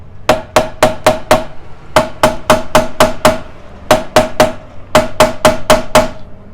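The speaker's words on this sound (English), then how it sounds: "you grab a small little hammer and start tapping away" A small hammer taps spark plug tube seals into place on a Toyota 2ZZ engine's valve cover. It comes in quick bursts of four or five sharp metallic taps with brief pauses between, close and loud, and no voices.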